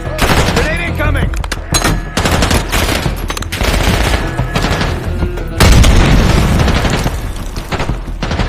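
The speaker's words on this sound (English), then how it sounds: "Grenade incoming!" A grenade blast in Call of Duty Black Ops 6 on PC, during the Hunting Season mission, hits heavily amid dense, continuous gunfire and booming combat. It swells louder partway through, and a voice briefly shouts over the noise.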